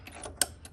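Tension knob tightened on a MIG wire spool of a Yeswelder MIG-205DS welder, pressing a spring and washers: soft close mechanical rubbing and creaking with one sharper click, brief and quiet.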